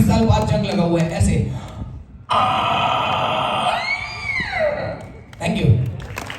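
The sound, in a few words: voice imitating a rusty door creaking open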